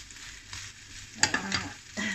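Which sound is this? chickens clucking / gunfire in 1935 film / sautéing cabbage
sautéing cabbage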